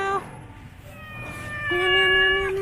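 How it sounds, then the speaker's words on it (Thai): A cat meows near a temple, two or three drawn-out, tonal meows, the last one longer and louder, close by and clear with no talk over them. "ว่าไงเจ้าแมวน้อย"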